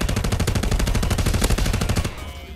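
Rapid, dense semi-automatic gunfire in the VR shooter Contractors, loud and continuous for about two seconds before cutting off into a quieter tail.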